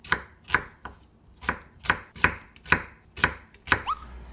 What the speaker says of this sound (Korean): 모양으로도 한입 크기로 자르세요